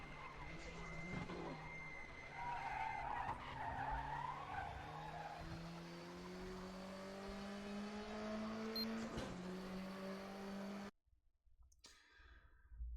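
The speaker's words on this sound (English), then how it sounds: "Here I'm braking probably 105, I'd say. Hard brake." A race car brakes hard into a curve, tyres squealing and skidding over a falling engine whine for several seconds, loud and close, before cutting off abruptly.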